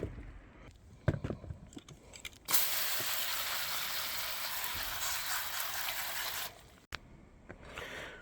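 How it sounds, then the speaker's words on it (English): Shallots being strained and rinsed in a colander: a steady hiss of running water pouring for about four seconds, framed by clinks and knocks of handling before and after. "I'm just going to strain these off now and then rinse them"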